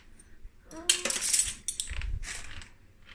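Metal cutlery clinks and clatters in bursts as it is lifted out of a dishwasher at home, close and moderately loud, with a short squeak and scattered knocks between handfuls.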